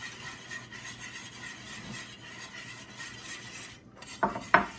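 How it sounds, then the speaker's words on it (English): Pecans tipped into a pot of German chocolate cake frosting make a couple of sharp clatters near the end, following a stretch of quiet, steady kitchen background. "First I'm gonna add the pecans."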